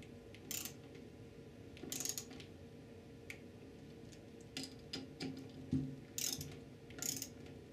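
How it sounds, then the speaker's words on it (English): A ratchet tightens screws on a Chrysler 46RE transmission to torque spec, with quiet clicking bursts of pawl ticks in short irregular runs, close and faint. "Install the screws and torque them to 35 inch pounds or"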